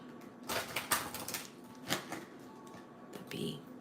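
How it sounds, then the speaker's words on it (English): Animal oracle cards shuffled by hand in a few quick riffling bursts, soft and close, with brief pauses between them. "One more shuffle."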